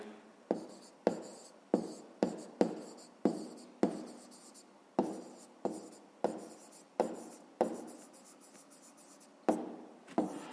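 Pen writing an answer by hand on paper, a string of short scratchy strokes in an irregular rhythm, close and fairly quiet.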